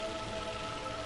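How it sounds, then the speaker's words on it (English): Steady rain falling outside, a dense even patter heard from indoors with a faint constant tone running through it, no break over the whole moment. "And it's raining like a bitch here."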